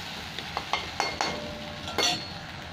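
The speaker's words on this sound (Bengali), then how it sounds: "এই মশলাটা একটু ভাজতে থাকবো, টমেটোর কাঁচা গন্ধ চলে যাবে" Tomato and spice paste sizzles steadily in a pan for a vegetarian pointed gourd curry, with a few close clinks and scrapes of a spoon stirring against the metal.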